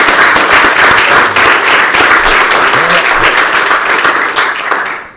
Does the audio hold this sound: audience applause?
yes